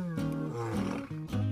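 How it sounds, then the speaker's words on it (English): A lion lets out a short, deep roar in a few rough pulses, close and loud. "Lion."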